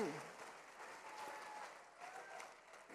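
Faint, distant audience applause for micro-business owners at an Indonesian entrepreneurs' event, a soft steady patter of clapping with a brief voice at the start.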